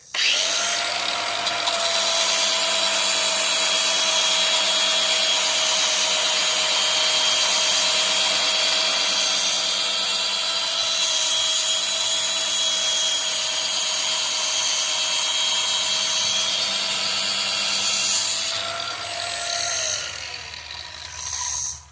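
A power tool polishes a car brake rotor with a loud, steady high-pitched whirring grind that holds for about eighteen seconds, then spins down and stops.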